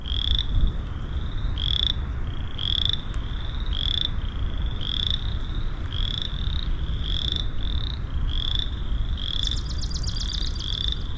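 A chorus of frogs croaks steadily at a small pond in a conservation area, their rhythmic repeated trills carrying over a constant outdoor background hum.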